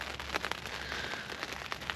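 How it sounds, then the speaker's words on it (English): Rain patters steadily on a tent during a winter storm camp in the Peak District at Edale, a dense, even hiss with scattered sharper drops hitting the fabric close by, heard alone with no voices. "I really like the sound of the rain though."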